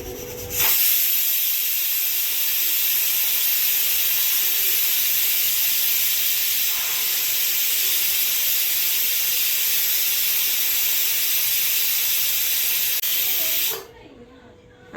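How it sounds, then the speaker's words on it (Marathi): A pressure cooker holding chicken biryani lets out a loud, steady hiss of steam through its whistle that lasts about thirteen seconds and then stops abruptly. "एक किंवा 2 शिट्ट्या काढून घेऊया."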